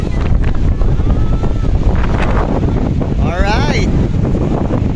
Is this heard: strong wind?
yes